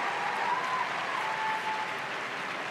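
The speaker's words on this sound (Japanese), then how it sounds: "大いに拍手を送りたいと思います。" A large arena crowd at the 2011 Four Continents figure skating championships applauds after Yuzuru Hanyu's free skate, a steady, distant wash of clapping that holds evenly throughout.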